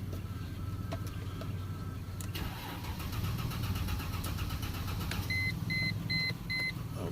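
2003 Mercedes-Benz ML 350 filled with the wrong fuel, its engine cranking over for a few seconds without catching, followed by repeated dashboard chimes, heard from close by with no talk.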